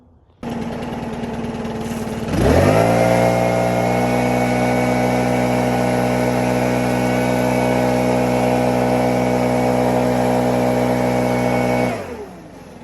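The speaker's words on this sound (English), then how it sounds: "blow some of these leaves in this flower bed outwards, and then y'all can see the difference. So I'll start off with the 600C." A Stihl BR 600 C backpack leaf blower clearing leaves from a flower bed revs up from a low idle into a loud, steady, high-pitched roar, holds there for about ten seconds, then winds down.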